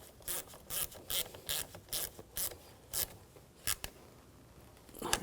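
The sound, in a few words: ratchet tightening car battery terminal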